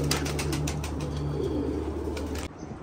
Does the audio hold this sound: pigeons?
yes